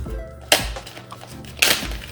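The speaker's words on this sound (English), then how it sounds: "cut the bag open." Two sharp crackling snips of a plastic bag of Mini Egg chocolates being cut open, about a second apart, close and crisp against a quiet room.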